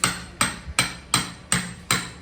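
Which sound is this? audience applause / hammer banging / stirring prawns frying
hammer banging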